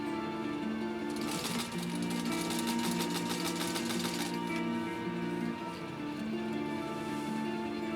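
A 1953 Singer 15-91 sewing machine stitching through tough acrylic fiber runs with a steady mechanical hum that speeds into a rapid, dense needle chatter before settling back to a slower even whir, close up and alone.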